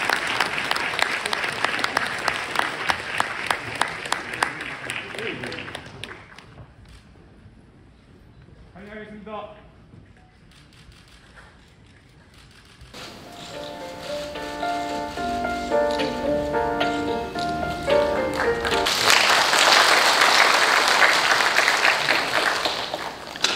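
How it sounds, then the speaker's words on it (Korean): A ceremony audience applauds to welcome a guest at a university president's inauguration in Busan, a broad, steady wash of clapping that swells louder toward the end, with music and voices mixed in earlier. "여러분 뜨거운 박수로 환영해 주시기 바랍니다."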